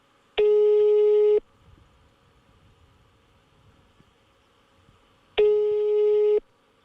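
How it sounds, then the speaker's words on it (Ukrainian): Ringback tone from an unanswered telephone call to a pig farm's owners, two long steady buzzing tones about a second each, separated by roughly four seconds of quiet line hiss. "намагалися зв'язатися також з власниками, але телефоном слухавку ніхто не взяв"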